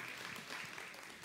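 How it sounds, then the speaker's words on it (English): A church congregation claps for the children, a brief, steady burst of soft applause heard from across the room. "Big round of applause for our kids."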